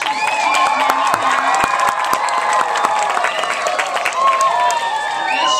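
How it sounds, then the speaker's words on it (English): A crowd at an outdoor Viva Florida 500 celebration applauds and cheers, with dense, steady clapping and scattered shouts and whistles sustained loudly throughout. "Could you give her a round of applause, please?"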